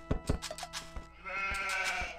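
Sheep in Age of Empires 2 bleating several times in quick succession, clear and close, with no talk over them.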